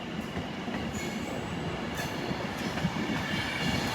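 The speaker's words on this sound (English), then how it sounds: "As that departs London Euston, 390-049." A Class 390 electric train departing London Euston on a snowy day, a loud continuous rumble of wheels and rails close by with faint squeals, heard alone without talk.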